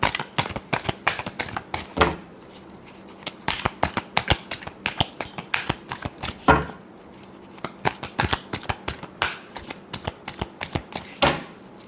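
Tarot cards are shuffled by hand in quick repeated riffles, a close, crisp series of flicking bursts with short pauses between them.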